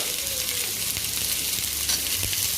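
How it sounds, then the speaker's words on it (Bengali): Soaked chickpeas fry with pumpkin in a pan, making a dense, steady sizzle of hot oil up close, with a few soft stirring knocks and no one speaking. "ছোলাগুলো এই সাথে দিয়ে ভেজে নেব"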